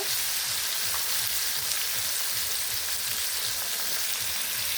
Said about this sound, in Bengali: মাছগুলো ভাজা হয়ে গেছে, এখন মাছগুলো তুলে নিচ্ছি